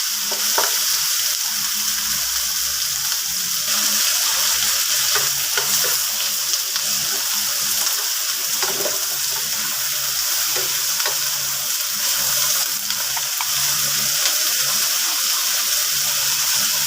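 Onion and garlic sizzle steadily in a hot pan for pork adobo, with occasional stirring scrapes, a continuous close frying hiss with no talking.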